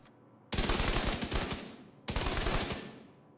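Two sustained bursts of rapid gunfire from a Scorpio shotgun in the Division 2 video game, each roughly a second and a half long and fairly loud.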